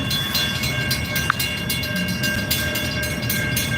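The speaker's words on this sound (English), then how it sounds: "Look at how nice those train cars are." Train cars roll steadily past at a railfanning spot, a continuous broadband rumble with rhythmic clatter and a brief squeal, close and loud with no talking.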